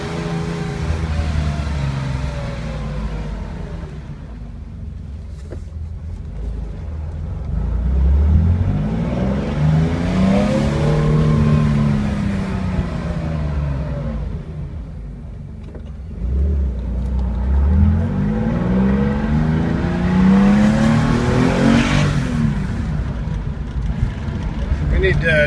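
A 1971 Porsche 911E with a freshly rebuilt engine on a test drive, its engine rising and falling through two long acceleration pulls, heard from inside the car with wind noise and someone speaking over it.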